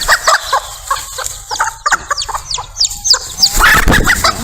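A mother hen clucks loudly and rapidly over newly hatched chicks, a close series of sharp clucks and squawks with a rising agitated burst at the end.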